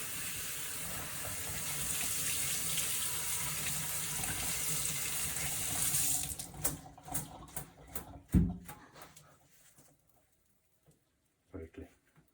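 Tap water runs into a sink to rinse a small MiniMesh strainer, a steady close gush for about six seconds, then stops and gives way to scattered clinks, drips and handling knocks before near silence.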